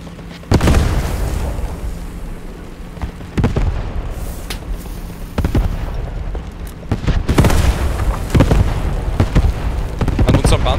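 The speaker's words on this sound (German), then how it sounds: "Ist, glaube ich, gerade was explodiert." Several heavy booms and sharp blasts of artillery go off at irregular intervals over a constant rumbling din, loud and close, with German voices under the noise inside a tank.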